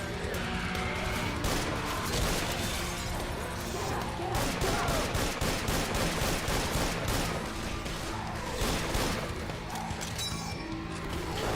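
Gunfire bursts in a shooter video game, dense and continuous with overlapping cracks and crashes over a busy in-game soundscape, with a voice talking faintly underneath.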